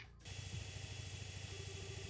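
A gas-burning engine in the game Trails in the Sky starts with a click, then settles into a loud, steady low mechanical rumble and drone that runs on alone, with no talk over it.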